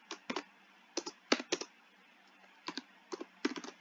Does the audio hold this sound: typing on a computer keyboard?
yes